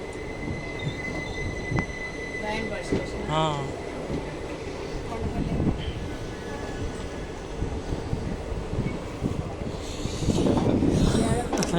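A train rolls past close by near Kondapalli railway station on the Vijayawada line, a steady heavy rumble of wagons with occasional wheel squeal and clatter throughout, swelling louder toward the end.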